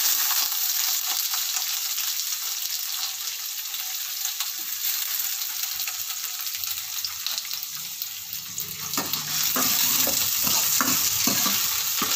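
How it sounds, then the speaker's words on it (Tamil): Finely chopped large onions sauté in oil in a pan with cinnamon and fennel, a steady bright sizzle with stirring scrapes and clinks growing busier toward the end, no talk. "இதை நல்லா கோல்டன் ப்ரௌன் வர்ற வரைக்கும் வதக்கி எடுத்துடலாம்."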